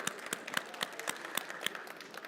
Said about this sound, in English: Give Steve a round of applause